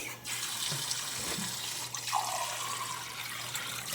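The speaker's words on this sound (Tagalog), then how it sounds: "Lalagyan ko ng tubig." Tap water runs steadily into a cooking pot holding soursop leaves and peel, a close, continuous pouring and splashing rush with no talk.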